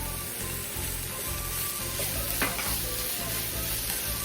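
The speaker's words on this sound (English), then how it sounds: "while our onions are still cooking, we're gonna go ahead and add our bean sprouts" Onions and bean sprouts sizzle in a pan for shrimp fried rice, a steady frying hiss with occasional utensil stirring scrapes and a brief clatter midway, close and continuous without talk.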